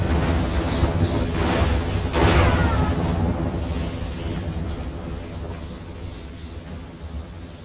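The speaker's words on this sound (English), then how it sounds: "You get the lightning! Now you get the lightning!" Lightning spell in Elder Scrolls Online crashing as rolling thunder, a loud booming surge peaking early, then a long rumbling, crackling wash that slowly fades.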